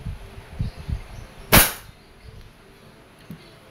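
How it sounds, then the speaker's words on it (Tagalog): A Crosman SR 357 airgun revolver fires once in double action, a single sharp close crack standing out from faint clicks and handling noise before it, with a small tap near the end. "One more sa double action. Double action again. Firing."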